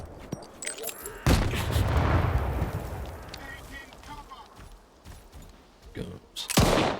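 A railgun fires at concrete in STALKER 2, one heavy blast followed by a long rumbling decay, then a second sharp burst near the end, with game sounds and scattered noises throughout.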